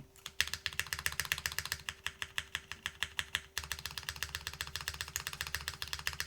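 Rapid keystrokes on a custom Snake R2 mechanical keyboard, a steady run of bright, clacky clicks close up with a brief pause midway, over a low constant hum and no talking.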